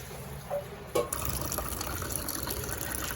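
Water poured into a container indoors at home, a steady close gush of filling liquid after a couple of brief knocks, with no talking.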